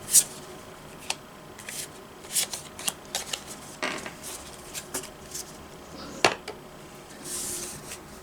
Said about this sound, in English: we will adjust or shuffle the cards as needed